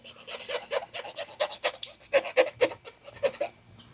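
Dirt is rubbed off Nintendo NES game cartridges with quick, close scrubbing strokes in a rapid uneven rhythm, fairly loud and steady for a few seconds with no talking.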